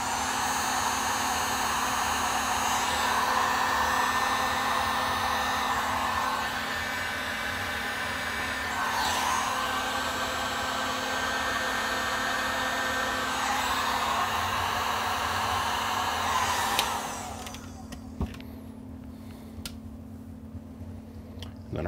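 A heat gun shrinking heat shrink tubing on a foot pedal build for a ham or CB amp blows a loud, steady, roaring rush of hot air for about seventeen seconds, then switches off to a quiet hum with faint clicks.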